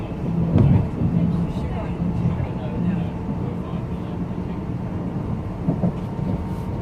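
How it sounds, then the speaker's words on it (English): A container train rolls along the railway with a steady, heavy low rumble that holds evenly throughout, close by. "So this container train has probably come from Southampton"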